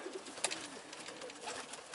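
Pigeons cooing inside a dovecote, soft repeated rolling coos against a steady rustling, breathy background, close and fairly quiet with a brief sharper flutter or click partway through.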